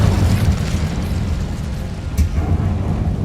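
The Incendio fire spell in Hogwarts Legacy bursts as a loud, dense, rumbling blast that fills the clip and sustains without pause, with a brief sharp crack partway through.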